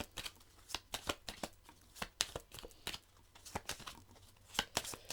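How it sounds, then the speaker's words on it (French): Tarot cards shuffled by hand in a rapid run of crisp riffling flicks and slaps, close and fairly quiet, with no voices. "On mélange nos 8 cartes."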